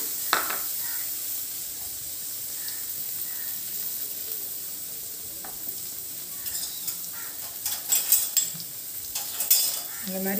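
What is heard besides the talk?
paneer and vegetables frying in a pan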